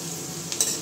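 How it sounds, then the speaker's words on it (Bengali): Papad dropped into hot oil in a pan, giving a short burst of sizzling and crackling that swells near the end over a steady low frying hiss, with no talk. "এই জন্য তেলে পাঁপড় দিয়ে দিচ্ছি"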